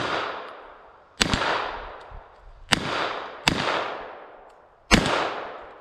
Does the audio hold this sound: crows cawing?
no